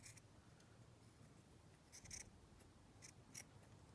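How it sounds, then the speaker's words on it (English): Scissors snip through packaging material being trimmed into a craft tag, a few quiet, separate cuts over a faint background hiss, with the sharpest snips clustered toward the end. "Might even cut that top piece off."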